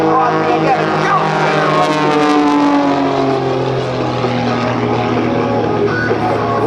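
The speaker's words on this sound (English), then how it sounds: "Rolling the airplane up on the left and on the right." Propeller airplanes of the Red Eagles aerobatic team roll and cross overhead at the 2007 AirPower Over Hampton Roads airshow, a loud, steady engine drone that slowly shifts in pitch throughout.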